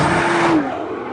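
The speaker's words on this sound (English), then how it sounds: "Now we're getting a little slip through first gear, which might slow us down a bit" 2013 Nissan GT-R accelerating hard from a launch with slight wheel slip in first gear, a loud close engine roar whose pitch climbs and then falls away as it shifts.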